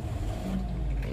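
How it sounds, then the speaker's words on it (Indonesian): A manual-transmission car's engine idles steadily just after start-up with the gearbox in neutral, giving a loud, continuous low rumble close by. "Nah, mesin sudah nyala."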